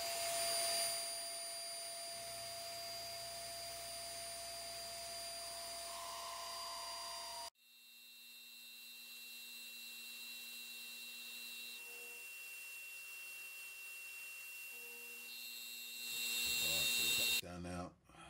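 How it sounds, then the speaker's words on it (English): Metal milling machine with an end mill facing off the end face of a steel dagger workpiece, a loud high whine that cuts off, restarts with a spin-up, holds steady, then swells at the end. "I could just drop the end mill straight in there"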